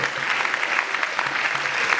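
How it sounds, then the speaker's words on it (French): Audience applause at a chamber of commerce regional gathering in Brittany, steady dense clapping filling the whole short stretch at moderate loudness with no talk over it. "Qu'on applaudit"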